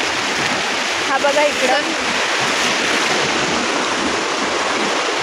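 A river rushes over rocks near Khed in the Konkan, a steady broadband roar close by, with someone speaking briefly over it early on.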